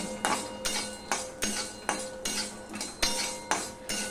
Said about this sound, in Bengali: এগুলো কাঁচা বাদাম, এগুলো আমি কড়াইতে একটু নেড়ে নেব